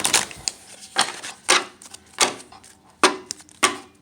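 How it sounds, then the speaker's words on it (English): A quick run of crisp, papery riffles and snaps from shuffling tarot cards, arriving in short bursts roughly every half second, close and fairly loud. "I'm going to do a shuffle real quick."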